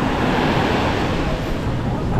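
Surf rolling in at Es Canar beach in Spain on a windy day with high waves, a steady loud broadband wash of breaking water and wind without pause.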